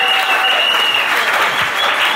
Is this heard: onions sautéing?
no